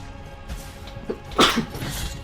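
A single loud sneeze bursts out over the quiet sounds of a Blasphemous 2 playthrough, followed by a brief breathy tail.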